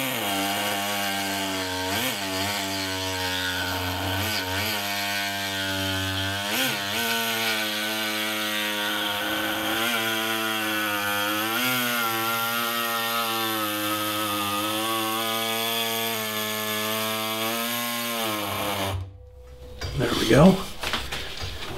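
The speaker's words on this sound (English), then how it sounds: "The metal blade, the teeth are a lot finer, so it actually just cuts like butter." Saw with a fine-toothed metal blade cutting into maple on a woodturning piece gives a loud, sustained buzzing whine that rises and falls slightly in pitch, then stops abruptly near the end, followed by brief clattering handling sounds.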